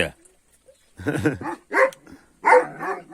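A Kangal dog barks and yips a few times close by, with short whimpering sounds between the barks.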